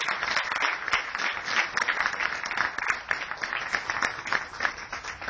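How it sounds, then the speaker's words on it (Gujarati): A crowd at a devotional gathering claps steadily, a dense and continuous patter of applause that holds at an even, fairly loud level throughout. "આમાં તો તાળી વધારે પાડો તો વાંધો નથી"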